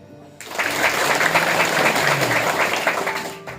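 An audience at a school graduation thanksgiving celebration breaks into applause after a brief quiet moment, a loud, full burst of clapping that holds steady and then begins to fade near the end.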